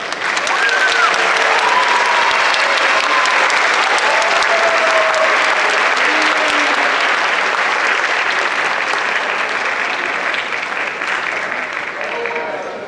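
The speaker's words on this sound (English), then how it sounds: "let's give these wonderful young ladies and young men a good round of applause" Audience at a senior awards ceremony applauding steadily, a dense crowd clapping that stays loud and continuous before tapering slightly at the end, with no talk over it.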